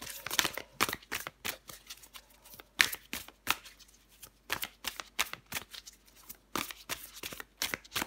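Tarot cards being shuffled and drawn by hand, a rapid run of crisp riffling flicks and slaps that keeps going for several seconds, close up, with no speech over it.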